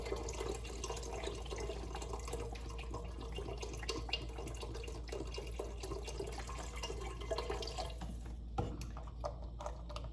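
Mushroom broth pours into a soup pot in a continuous liquid stream, a steady splashing trickle over a low background hum that stops near the end.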